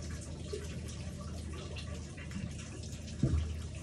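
Water trickles and drips faintly into the gearbox of a D300 boat, a quiet steady wash with one brief knock partway through.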